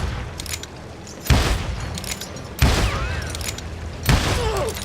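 Gunfire in the Western shooter game Call of Juarez Gunslinger, three sharp loud shots spaced about a second and a half apart over a steady game ambience.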